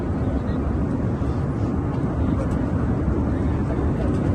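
Inside a passenger plane's cabin during a flight to Kashi, a loud, unbroken engine drone fills the space, with murmuring voices beneath it.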